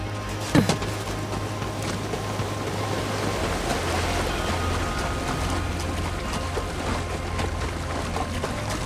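Waterfall hiding a secret passage in a video game, a steady rushing water roar filling the scene at even loudness, with a low hum and a brief clank near the start.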